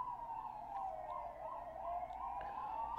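Police and ambulance sirens wail outside, a faint distant rising-and-falling tone drifting under steady background noise for a few seconds.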